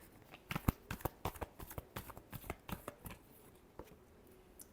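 Tarot cards shuffled by hand in a quiet room, quick irregular bursts of riffling slaps and flicks that thin out toward the end.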